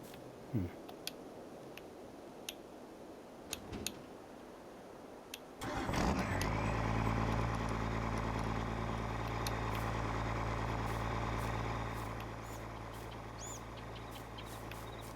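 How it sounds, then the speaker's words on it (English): Little white truck in the video game Farming Simulator 22: after faint ticks and clicks, the engine cranks and catches, then settles into a steady, droning idle that drops slightly in loudness near the end. "Oh, we still got this little white truck here."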